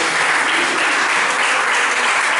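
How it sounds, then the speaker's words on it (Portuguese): A church congregation applauds during a worship service, loud and dense clapping that fills the space in a continuous wash from start to finish with no voices on top. "Dá uma salva de palmas para Jesus."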